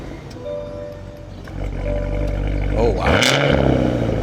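A 2025 Cadillac Escalade-V fires up with a loud startup, settles briefly, then barks through a sharp exhaust rev near the rear, close and powerful, while someone nearby reacts aloud.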